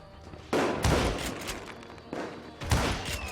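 Gunfire in the Wild West shooter Call of Juarez Gunslinger: two loud bursts of several close, sharp shots each, with a short gap between them.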